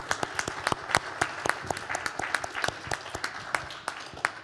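Applause from the audience at a national poetry and fiction prize ceremony, a thin, modest round of individual claps, fairly close, steady for several seconds with no voices.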